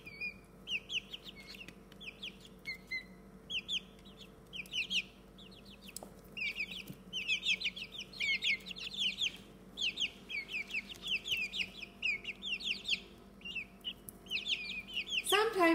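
Chicks in a brooder peep and chirp in busy overlapping bursts of high calls, fairly close, with a faint voice talking underneath.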